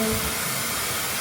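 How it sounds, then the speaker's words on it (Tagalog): A hair dryer blows on a child's freshly washed hair, a steady close whooshing hiss with no breaks, alone without talk. "Kailangan i-blower ng kanyang hair."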